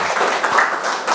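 A classroom group applauds for about a second, dense clapping from many hands close by, fading out at the end.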